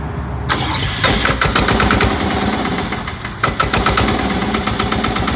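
A tractor's diesel engine cranks and catches within half a second without a decompressor, then settles into a loud, close, rhythmic knocking idle with a brief surge midway.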